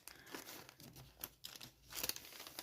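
Plastic packaging of a sticker sheet being cut open across the top, with a run of close crinkling and tearing rustles in short bursts and no talking.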